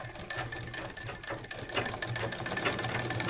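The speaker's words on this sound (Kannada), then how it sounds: "ನೀವು ಆದಷ್ಟು ಸಿಂಗಲ್ ಫುಟ್ನ ಹಾಕ್ಕೊಂಡು ಕರೆಕ್ಟ್ ಎಡ್ಜಿಗೆ ಸ್ಟಿಚ್ಚನ್ನು ಮಾಡಿ" Sewing machine running steadily as it stitches blouse fabric close along the edge, a continuous fast mechanical chatter with slight speed changes, close and moderately loud.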